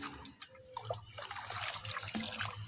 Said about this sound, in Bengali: সাধারণ জলের সঙ্গে এই জল আমি দু বাটি মেশাবো